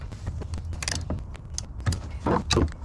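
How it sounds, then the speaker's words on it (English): A 5/32 Allen driver tightens a loose pump mount on a 58-gallon Vevor diesel transfer tank, giving close mechanical creaks and grinding clicks in short irregular bursts. "the pump mount was really loose, and it's a 5/32 Allen driver."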